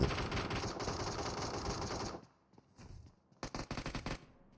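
Automatic gunfire in the mobile battle royale game PUBG Mobile, likely an MG3 machine gun: a long loud sustained burst, a brief pause, then a quieter scatter of shots and a closing series of rapid cracks.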